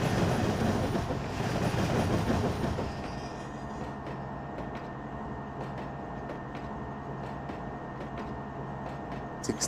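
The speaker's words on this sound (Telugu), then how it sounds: "మన ట్రైన్ అయితే మెయిన్ లైన్లోకి ఎంటర్ అయిపోయింది." Train running on the main line in the Trainz railway game, a steady rumbling roll of wheels that fades down after a few seconds into a quieter hum with faint repeated clicks.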